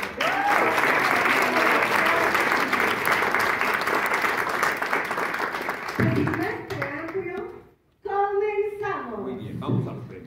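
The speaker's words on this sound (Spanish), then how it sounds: "Aquí le damos un aplauso." An audience at an independent theatre awards ceremony bursts into sustained applause for several seconds, then it fades and a voice starts speaking over the last scattered claps.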